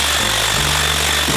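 An impact wrench hammers in rapid, loud bursts on the crank pulley bolt of a 1990 Honda Prelude, with pitch shifts between short pulses at very close range.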